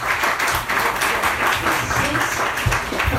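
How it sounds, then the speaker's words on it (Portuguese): A church congregation at a Portuguese-language sermon claps loudly and densely. The applause stays strong throughout, with some voices mixed in. "Uma salva de palmas"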